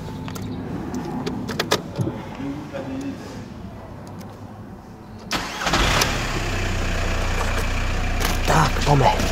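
A Volkswagen 1.9 TDI diesel engine cranks and fires up, then settles into a steady, close idle, with someone talking over the workshop sounds beforehand.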